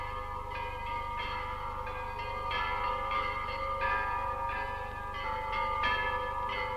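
Church bells ring at the Rostov Veliky bell-ringing festival of 1989, a steady peal of several bells struck in repeating rhythmic patterns, sustained and resonant, heard from a moderate distance with no voices.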